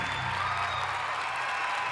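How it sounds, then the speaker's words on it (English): A live audience applauds a performer called Dirt, steady dense clapping that fills the room evenly without breaks. "Please, everybody, put your hands together for Dirt."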